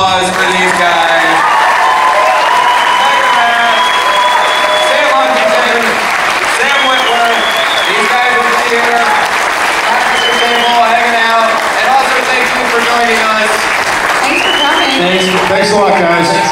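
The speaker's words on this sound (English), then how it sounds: "So big round of applause for these guys." A convention audience applauds long and loud at a monster-themed fan convention panel, a dense, steady wash of clapping with some cheering and voices mixed in throughout.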